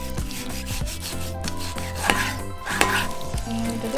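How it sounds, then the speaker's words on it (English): A knife is drawn through pork shoulder to cut it into smaller pieces, making repeated close, rubbing chops against a board in a busy, steady rhythm. "So I'm just going to cut into a smaller piece."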